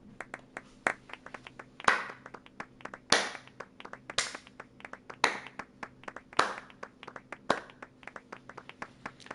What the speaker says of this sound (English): It's the most half-hearted, half-assed clap I've ever heard.